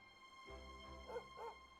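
A dog in Dragon Quest XI S gives a few short, faint barks and yips, spaced in a quick irregular rhythm over a low steady game background.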